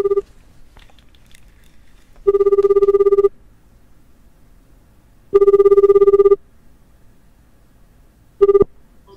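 An outgoing telephone call rings out during a radio broadcast in Japan: a steady ringback tone sounds in even one-second bursts separated by quiet gaps, four times, clear and close with no voices.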